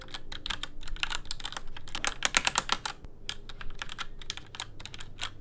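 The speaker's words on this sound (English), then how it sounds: "Keyboard is a Steel Series keyboard" Rapid clicking of a SteelSeries computer keyboard being typed on, close and steady with a brief faster flurry midway, no voices.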